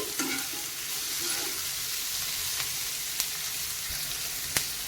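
Green chillies sizzling with onions in a hot pan, a steady crackling fry with occasional sharp pops and light stirring, no voices.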